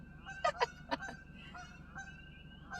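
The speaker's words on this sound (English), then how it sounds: "And that is why there is a goose." Geese honk beside roadside water, several loud, nasal calls in a quick irregular burst and then softer honks further off, with no talk.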